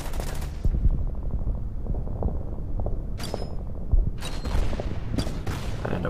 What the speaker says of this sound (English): And a mortar attack.